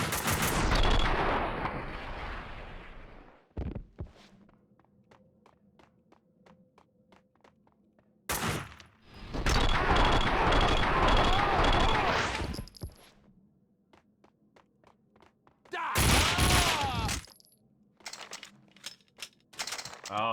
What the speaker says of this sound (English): Oh, the shots came from above.